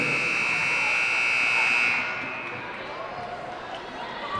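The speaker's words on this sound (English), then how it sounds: "That buzzer lasting a little bit longer than my ears like to hear, Logan." A long, loud electronic shot clock buzzer sounds over a women's college basketball game, holding steady for about two seconds before cutting off, with gym crowd noise underneath and continuing afterward.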